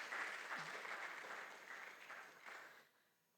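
Applause for an absent vice chancellor at a university workshop on gender-based violence, a steady wash of clapping from a modest crowd that thins out and fades near the end.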